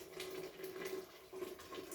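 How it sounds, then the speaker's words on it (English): Boiling water pours from a kettle into a pot of potato and green lentil soup, a faint continuous trickling splash lasting about two seconds. "I am going to add just a wee bit more boiling water"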